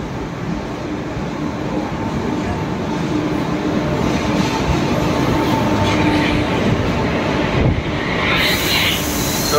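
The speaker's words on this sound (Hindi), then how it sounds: "आप लोग देख सकते हैं हमारा ट्रेन आ चुका है।" A passenger train arrives at a station, a loud, sustained rumble of rolling carriages and wheels on the rails with a broad hiss, continuous and close throughout.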